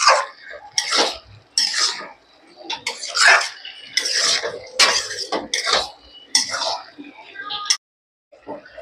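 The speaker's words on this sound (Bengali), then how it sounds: "ভালো করে আমি মোচাটা নাড়িয়ে চাড়িয়ে নিয়েছি" Banana blossom curry being stirred in a pan, a spoon scraping and clinking against the metal in irregular bursts of strokes, close and fairly loud, ending in a brief silence.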